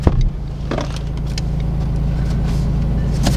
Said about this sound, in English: We have been driving for about an hour now